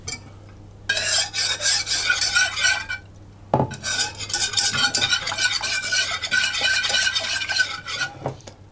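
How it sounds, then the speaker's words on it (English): A wire whisk stirs liquid in a hard-anodised pan, a rapid, scratchy swishing heard in two close bursts with a brief pause between, a light metallic tap, and no talking. "And this is a wire whisk, but my pan is hard anodised,"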